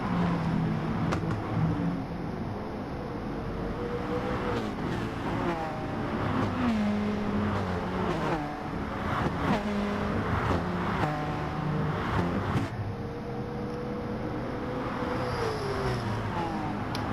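Race cars roar through a racing video game in a close fight for the lead, engines droning steadily with rising and falling revs from cars running nose to tail in the slipstream, loud and continuous with no talk.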